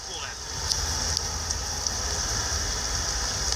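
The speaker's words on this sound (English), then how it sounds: "Rain is falling, kind of makes things look better." Steady rain hiss in Dream League Soccer, a constant wash of falling rain with faint crowd or engine-like rumble underneath and a few soft ticks throughout.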